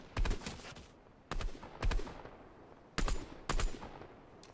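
Flare gun shots in the video game Fortnite fire one at a time, in four sharp reports, each followed by a fading hiss and tail, fairly quiet, with no talking.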